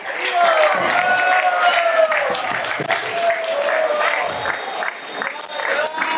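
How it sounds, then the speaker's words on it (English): Audience at a Radhastami celebration for community children applauds warmly, a dense patter of hand claps with scattered cheers that holds steady and then thins slightly toward the end. "So please give a big round of applause for the children of our Krishna Balaram community."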